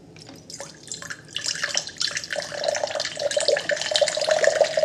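Water pouring in a steady, continuous stream, starting soft and rising in fullness as the pour goes on, with a faint ringing tone as the vessel fills. No one speaks.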